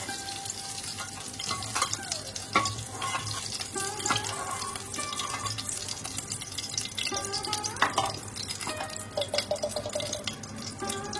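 Eggplant sizzles steadily in hot oil, with frequent clinks and scrapes of a metal utensil against the pan, fairly close.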